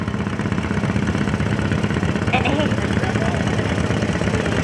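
A John Deere 40 tractor idles at a historical society engine show, its engine running in a steady, even chug for the whole stretch while someone talks over it.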